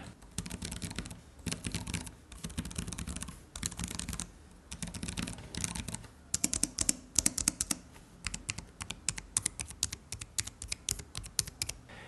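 Keys clatter on a Nillkin Magnetic Bumper Link keyboard case for iPad Pro, with bursts of fast, close typing separated by short pauses and a few sharper clicks.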